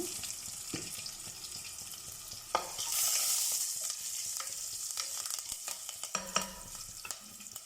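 Green chili, ginger, curry leaves and a pinch of asafoetida sizzle steadily in hot oil in a pan, with a dense crackling hiss, occasional stirring scrapes and a brief louder burst of spitting near the middle.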